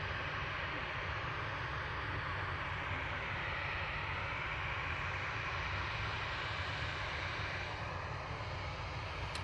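A Ryanair airliner at Manchester Airport, a distant steady jet engine roar holding evenly throughout, with faint background voices.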